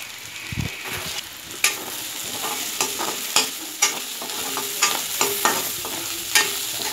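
Bitter gourd poriyal with grated coconut is stir-fried in a pan, with a steady sizzle broken by repeated sharp scrapes and taps of a spatula against the metal, close and clear, and no voices.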